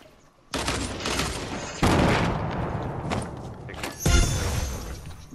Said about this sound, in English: There's more gunfire.